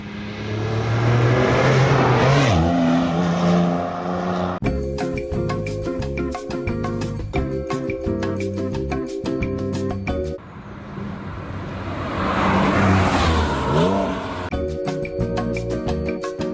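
A Porsche 911 997 Turbo with a manual gearbox revs hard and accelerates away, its loud engine surging twice, broken up by stretches of other sound in between.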